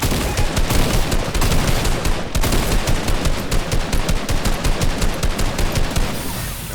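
Video game shotgun blasts repeat in a loud, fast, rhythmic barrage, one shot after another, near and dense, with barely any break and no talking.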